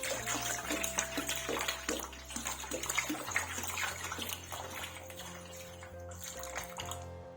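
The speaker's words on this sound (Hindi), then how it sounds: "और इसके ऊपर डालेंगे खुला पानी" Water pours and splashes steadily over a tea strainer being rinsed, a continuous gushing flow with small fluctuations, close and fairly quiet.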